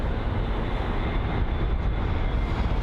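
A British Airways Airbus A320neo, inbound from Milan at London Heathrow, gives a steady, loud broadband roar of jet engine and rushing air that holds evenly throughout, with no voices over it.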